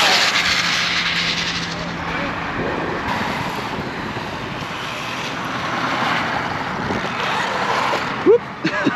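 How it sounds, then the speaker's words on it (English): A Traxxas 4-Tec 3.0 RC car runs flat out at full throttle on a speed run with its stock chassis, a loud continuous high-pitched motor whine with rushing wind noise lasting several seconds, then a couple of sharp bumps near the end. "Let's really try to get this Fortec to 100 with the stock chassis."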